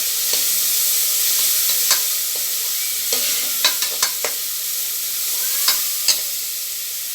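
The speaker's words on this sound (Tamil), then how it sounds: "வெங்காயத்தை கூட சேர்ந்து வதங்கும் போது நல்லாயிருக்கும்" Onions sautéing in a pan for mutton curry, a loud continuous sizzle close by with scattered sharp scrapes and taps of a spatula stirring, no talking.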